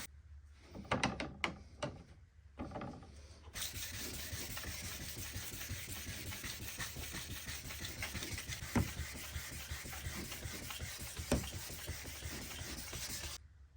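Higher-grit sandpaper rubs over old metal, a vintage blade or chisel, in a close, continuous hissing scrape after a few short strokes, with a couple of louder passes partway through.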